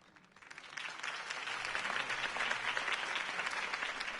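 Campaign rally crowd applauding Harvey Dent in a Batman game, clapping that swells from faint to a full, even roar of many hands and holds steady.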